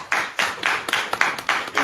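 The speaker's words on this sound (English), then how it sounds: "I think we deserve a hand of applause." Applause at a conference in a large hall: several rhythmic bursts of clapping from a crowd, fairly close and moderately loud, with no voices over it.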